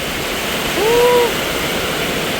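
Heavy storm rain pours down in a loud, dense, unbroken hiss throughout. Midway, a brief faint tonal whistle rises above it.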